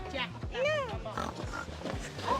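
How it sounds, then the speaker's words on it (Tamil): Several pigs grunting and snorting as they graze in a French zoo enclosure, close and fairly loud, with short rough calls repeating irregularly under people talking. "இப்போ பாருங்க நிறைய பன்றிகள்லாம் மேயுது."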